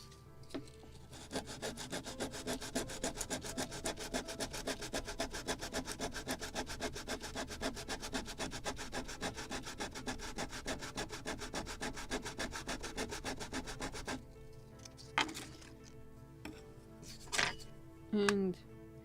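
Sandpaper rubs back and forth on the wooden hull of a model 1776 gunboat Philadelphia, fast close scratchy strokes for about fourteen seconds, then a pause with a few light handling knocks.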